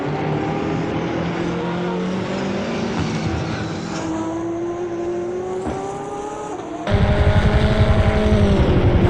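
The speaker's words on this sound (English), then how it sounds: "love the sound of these cars. I can listen to them all day long." Race car engines roaring in Assetto Corsa during a virtual 24 Hours of Daytona IMSA round, loud sustained engine tones shifting pitch as cars rev and pass, with a sharper, louder burst near the end.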